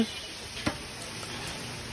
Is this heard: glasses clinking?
no